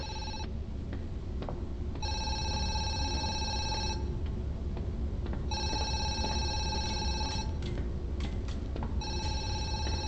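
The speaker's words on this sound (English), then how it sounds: "got a phone's ringing." Telephone ringing inside the horror game Zoochosis, a repeating electronic ring in bursts separated by short pauses, loud and close over a low background rumble.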